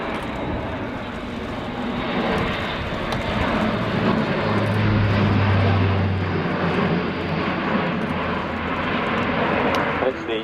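An Airbus A400M Atlas turboprop roars through a flying display at the RIAT 2019 air show at RAF Fairford, climbing into a turn. The engine drone is heavy and sustained, and a commentator's voice runs over it.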